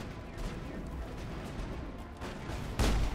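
Gunfire in Mass Effect rattles at the player in a dense spray of sharp cracks, ending in a louder, heavier blast near the close, with no voice over it.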